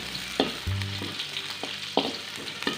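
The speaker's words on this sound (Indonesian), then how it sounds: "kita tumis bawang merah, bawang putih. Nah, ini kita masukin" Shallots, garlic and scallion stems sauté in a pan for sweet and sour shrimp, making a continuous close sizzle marked by several sharp knocks and scrapes of stirring.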